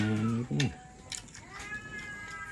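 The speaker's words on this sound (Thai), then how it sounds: "เสียงแมว" A cat meows twice close up, a drawn-out cry then a shorter one, followed by quieter background sounds and faint voices.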